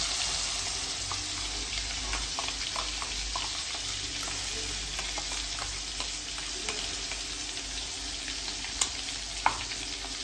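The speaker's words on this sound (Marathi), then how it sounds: "फोडणी तडतडायला लागलेली आहे" Spices sizzle and crackle in hot oil for a chole gravy tempering, a continuous hiss dotted with small pops, with a couple of sharper snaps toward the end.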